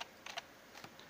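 Several quick keystrokes on a computer keyboard while entering commands in a Linux terminal, sparse clicks in two small bursts, close and fairly quiet with no talking.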